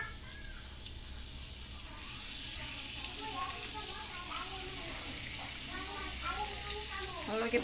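Margarine sizzles in a frying pan while cooking vegetable risoles, a soft steady frying hiss starting after a couple of seconds and continuing under intermittent talking.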